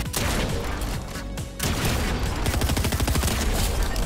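Rapid bursts of automatic gunfire from players shooting in Fortnite, loud and close, with a brief lull near the middle before dense repeated shots resume in a steady rattling rhythm.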